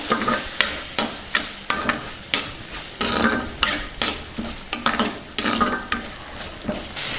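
Boti fry is stirred in a sizzling pan after chilli powder and coriander powder go in. The spoon scrapes and knocks against the pan in a brisk, regular rhythm over a steady frying hiss, close and loud, with no talking.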